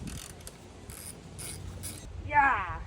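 A ratchet wrench clicks in several short bursts while bolts are undone on the front grille of a 2007 Mercedes-Benz SL550, close up and moderately loud, with brief pauses between turns.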